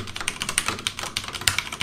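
A Logitech G915 TKL keyboard with red linear switches is being typed on in a quick, uneven run of soft, close keystrokes, heard on their own.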